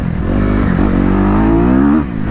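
A Honda CRF 250RX dirt bike on a trail in Palmas, its engine rumbling close and loud, rising slightly in pitch before dropping off near the end, with no talking.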